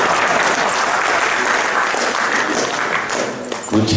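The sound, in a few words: applause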